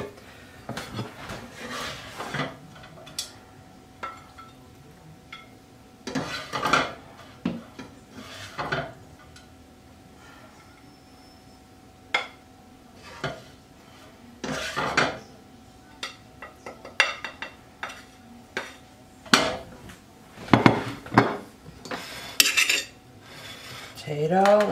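Breakfast of potatoes with bacon and melted cheese is plated onto dishes, with close, intermittent clinks and scrapes of utensils against pans and plates, separated by quiet pauses.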